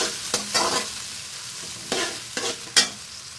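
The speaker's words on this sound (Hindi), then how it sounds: "अब मैं इसमें प्याज डालूंगी और इनको हल्का सा लाइट ब्राउन कर लूंगी।" Onions frying in oil in a handi pot until light brown, with a steady close sizzle and several sharp scraping stirs of a spoon against the pot.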